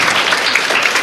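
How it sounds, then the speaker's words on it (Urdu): Loud applause from parents and students at a school welfare society's Ramadan welcome event, a dense, sustained clapping that fills the room with no voices on top. "پلیز پیرنٹس اور طالبات زوردار تالیاں بجائیے"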